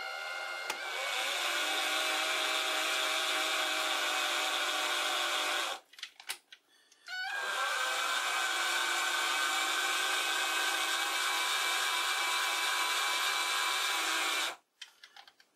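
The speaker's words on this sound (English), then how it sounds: "I'm using a cordless drill to move the compound." A cordless drill driving a lathe compound whirs at a steady high pitch for several seconds, stops with some clunking handling noises, then runs again before cutting off.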